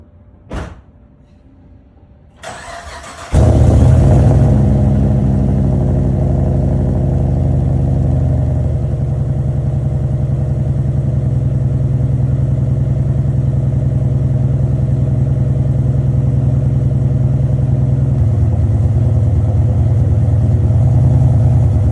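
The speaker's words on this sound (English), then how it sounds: "I'll give you guys a nice cold start video" A Chevy SS engine cold-starts with a quick cranking burst, then settles into a loud, steady, rumbling idle that holds close and constant with no talking.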